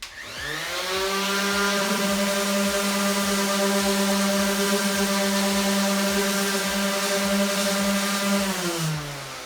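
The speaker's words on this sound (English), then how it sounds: "you always want to just have your sander going up and down" An electric power sander works on a clamped piece of wood, going with the grain: the motor spins up, holds a steady buzzing whine for about eight seconds, then winds down, loud and close.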